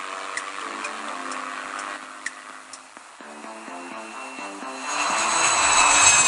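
A jet airplane takes off from a runway, its engine drone holding steady and then swelling into a louder, rushing roar toward the end, with faint tonal hums underneath.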